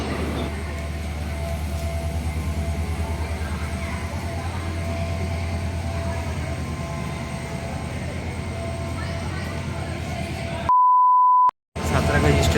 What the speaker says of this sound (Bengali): আমরা পৌঁছে গেছি সাঁতরাগাছি।